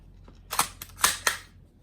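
A wooden-stocked Bell VSR10 spring air rifle fires three sharp, close shots in quick succession, each a crisp snapping crack with a short tail, plus a fainter click between them.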